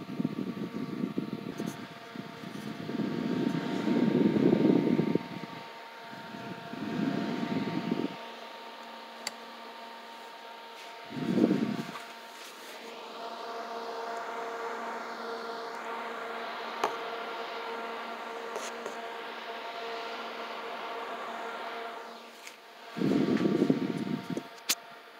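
A small Opolar F631 5-inch desk fan running, a steady soft whirring hum with a faint tonal whine, interrupted by several louder bursts of rumbling air noise, close to the microphone and without speech.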